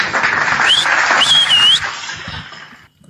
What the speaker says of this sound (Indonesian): Tepuk tangan lagi deh.